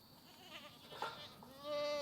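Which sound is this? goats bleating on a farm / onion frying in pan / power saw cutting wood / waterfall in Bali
goats bleating on a farm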